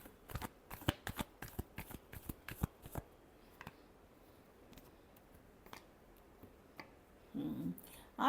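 Tarot cards shuffled by hand in a quick run of crisp riffling snaps for about three seconds, then a few scattered softer card sounds and a brief low rustle near the end, quiet and close.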